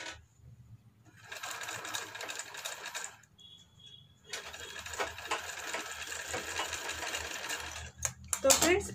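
A sewing machine stitches lace onto the neck of a blouse in two rapid whirring runs separated by a short pause, with someone speaking over it.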